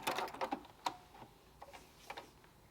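A Juki F300 Exceed sewing machine's thread cutter ties off a stitch, giving a quick cluster of small mechanical clicks and ticks up front, then a few softer taps trailing off, faint and close.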